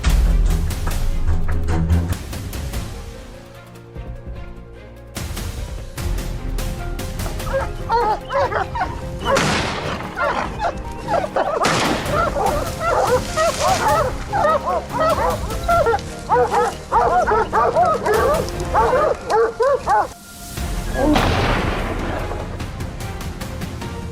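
Hunting dogs bark continuously during a wild boar hunt in the field, with loud, overlapping barks, yips and excited whimpers that rise and fall across the whole stretch.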